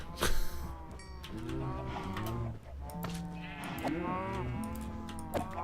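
Cows moo repeatedly in modded Minecraft, with several drawn-out, fairly loud calls in a row and sheep-like bleats mixed among them over a faint background.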